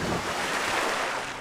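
Heavy splashing and churning water on the Total Wipeout obstacle course, a loud continuous wash with no voices.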